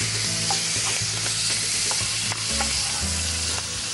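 Small shrimp frying with garlic in hot oil, giving a loud, steady sizzle with scattered clicks and scrapes of stirring throughout.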